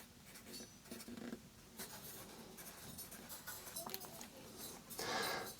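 A Musgrave Harvest No. 2 pencil scratches across paper in quick, light strokes, a soft close-up scribbling with short pauses between words.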